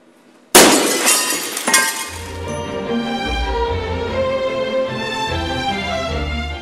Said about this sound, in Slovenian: gre za običajno steklo, za katero boste videli, da se lahko že ob rahlem udarcu razbije